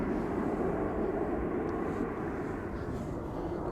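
A KLM Airbus A330-300 departs Amsterdam Schiphol for Houston, giving a continuous low jet rumble, fairly distant and moderately quiet, holding steady without speech.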